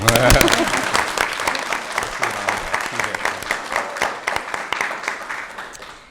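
A room full of people applauding at a board of education meeting after a motion passes, brisk overlapping claps that start loud and gradually thin out and fade toward the end.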